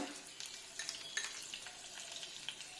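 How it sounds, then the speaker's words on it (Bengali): Fenugreek seeds and green chilies crackle and sizzle in very hot oil, a soft, steady frying hiss dotted with small pops throughout, with no voices. "এবার আমি ছেড়ে দিলাম মেথি তাতে কটা কাঁচা লঙ্কা আর দিয়ে দিলাম"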